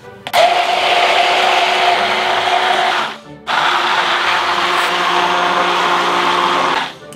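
An electric blender whirs loudly, premixing a burger sauce base with a little salt, running in two long steady bursts separated by a brief pause, close and alone.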